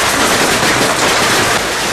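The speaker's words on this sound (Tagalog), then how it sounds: "Yung lalaki literal na hinahagisa ng paputok." Firecrackers crackle at a street ritual in Tainan County, a dense, loud, continuous barrage of rapid pops close by, with no voices.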